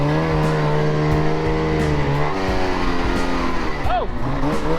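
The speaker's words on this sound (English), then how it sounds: "I'm gonna attempt to ride a snowmobile now." Snowmobile being ridden over snow on a farm, its engine droning loud and steady with a brief pitch sweep near the end, while a voice speaks over it.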